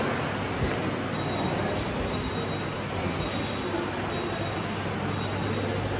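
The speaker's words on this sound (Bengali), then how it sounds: "এই যে আমাদের ট্রেন বালুরঘাট এক্সপ্রেস দাঁড়িয়ে আছে 1 নম্বরে" The Balurghat Express standing at the Balurghat station platform gives off a steady, loud, unbroken rumble with a faint high whine, and no voices are heard over it.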